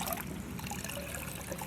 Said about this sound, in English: And I'm going to squeeze out all that water.